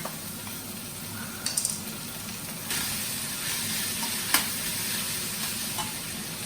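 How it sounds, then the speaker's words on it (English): Steady close sizzle of shrimp and veggie fried rice stir-fried in a wok with egg, broken by metal spatula scrapes and a sharp clank against the pan. "we're heating up the rice at the same time"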